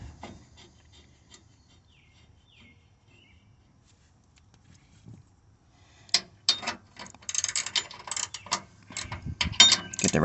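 A ratchet clicks in short, irregular bursts while tightening bolts on Sumo Springs inside the wheel well of a Ram 2500, quiet at first, then louder and closer.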